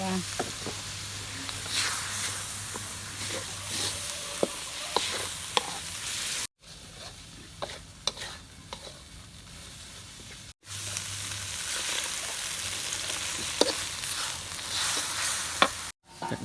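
A pot of food with coconut milk being stirred over heat, a steady sizzle and bubbling with soft scraping strokes running throughout, and a few brief cuts in the sound.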